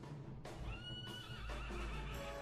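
A horse in Dragon Quest XI whinnies loudly in a long rising and falling neigh, with faint hoof clops beneath it.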